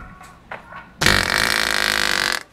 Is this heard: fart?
yes